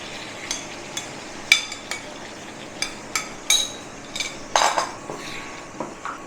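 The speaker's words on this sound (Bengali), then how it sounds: "এবার এই বাটি ধুয়ে জলটা দিয়ে দেবো।" Metal utensils clink and knock against a bowl and pan in a home kitchen while a yogurt chicken curry is being cooked, with a series of sharp, close taps and rattles spaced irregularly over several seconds.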